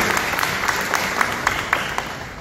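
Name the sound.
audience applause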